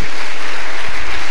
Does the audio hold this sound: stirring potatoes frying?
no